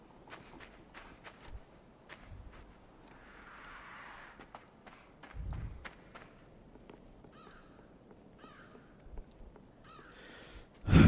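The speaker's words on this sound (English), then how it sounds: "Oh, it's a crow!" A crow caws repeatedly in the side-scrolling video game Limbo, sharp faint calls scattered over quiet game ambience with soft footsteps, ending in a loud thump.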